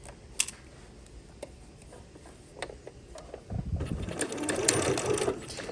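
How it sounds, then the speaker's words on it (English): Sewing machine stitching along the folded waistband edge of pyjama shorts, starting after a few faint clicks and then running as a steady close mechanical whir. "I'm gonna line it up right on those pins, and they get those out of my way before I start stitching."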